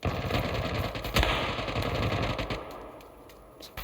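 Rapid automatic gunfire from a video game plays loud and close, a dense rattling burst that carries for a few seconds before thinning out, with no talking.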